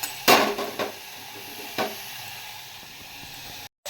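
Spices and ginger being stirred in a pan over heat for a home-cooked dish, a few scraping strokes and clinks at the start and again near two seconds, over a steady low sizzle, nearby and alone with no talk.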